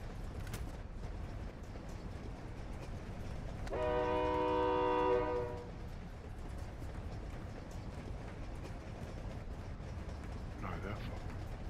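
Train in the Warzone DMZ video game, a loud horn blast lasting about two seconds over a steady low rumble of rolling rail cars, with players talking over the game sounds.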